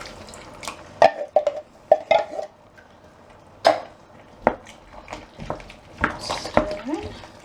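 Mince, courgettes, peppers, onions and tinned tomatoes are stirred together in a pan for a lasagne sauce, giving scattered spoon knocks and scrapes with soft wet squelches, while a voice talks in between.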